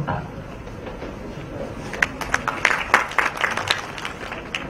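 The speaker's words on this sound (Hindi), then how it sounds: "हमने माननीय मुख्यमंत्री महोदय और अतिथियों का हृदयस्थ और अंतस्थ भावों से स्वागत किया, तालियों से अभिनंदन किया" An audience at a Hindi Diwas event in Jaipur bursts into applause to welcome the chief minister and guests, the clapping rising after a murmuring start and continuing steadily, loud and close.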